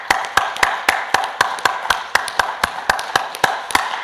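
A church congregation at a dawn service claps together in a steady, even rhythm, sharp hand claps repeating about every third of a second over a faint reverberant background.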